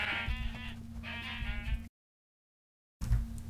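Sheep bleat loudly in a video game, two drawn-out wavering calls followed by a silent gap and then another bleat starting, all close and clear over a low background rumble.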